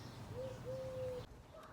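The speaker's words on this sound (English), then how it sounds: "Can you hear the birds?" A bird near a treehouse nest gives two soft, drawn-out cooing notes, faint and somewhat distant, with no one talking.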